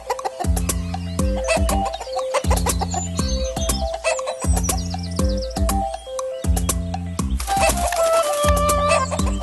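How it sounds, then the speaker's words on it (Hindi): Cartoon hen clucking outside a farmer's hut, heard over loud, steady, rhythmic background music that runs the whole time and nearly buries the bird sounds. "उसने उस वक्त अपनी झोपड़ी के सामने एक मुर्गी के चिल्लाने की आवाज सुनी"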